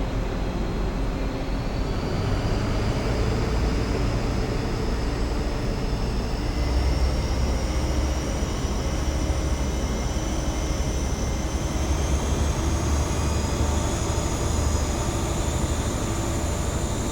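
An HST diesel train engine in Train Simulator 2019 runs with a loud, steady drone that stays even throughout, while a high whine slowly climbs in pitch and no one speaks.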